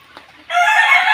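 Chickens at a small backyard poultry coop: a faint cluck or two, then a loud, sustained rooster crow that carries on to the end, close to the microphone with no talking.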